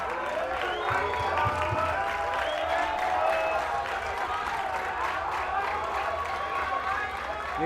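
A home crowd at a rugby match cheers and claps for a substitution, a broad sustained wash of cheering and applause at a distance, with a commentator talking over it.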